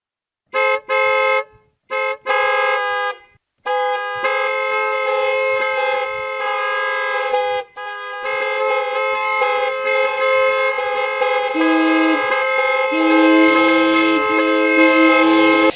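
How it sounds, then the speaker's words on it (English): Car horns honk at a drive-in high school graduation, starting as a few separate short blasts and swelling into a loud, continuous chorus of overlapping horns of different pitches. "Please honk your horn in appreciation of senior parents, guardians, or caregivers for this tremendous achievement."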